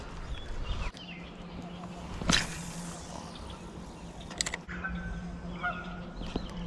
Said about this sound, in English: These geese have a lot to say up there.